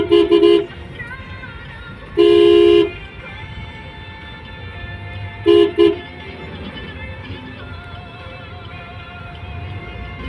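Road traffic with three loud car-horn honks, one short, one longer and one short double toot, over a steady background rumble of passing vehicles.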